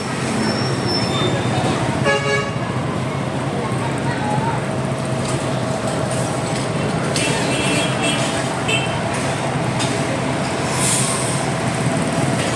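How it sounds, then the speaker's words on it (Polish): Bus pulling into a bus and tricycle terminal in the Philippines, with horn toots over steady traffic and engine noise; voices talk throughout. "Autobus sobie wjechał, wali po krawężniku, nakręca"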